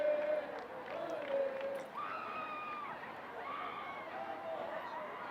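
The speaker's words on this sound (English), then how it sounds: "he excites the crowd with a goal" A high school boys varsity soccer crowd cheers a goal on senior night, a distant, steady swell of voices and shouts under an announcer's commentary.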